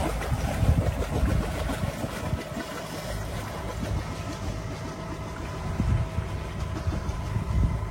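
A sailboat motors along under genoa with its diesel engine running: a continuous low engine drone with water wash and wind noise, steady and moderately loud, with no talking.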